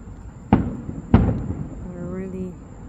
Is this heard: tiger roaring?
no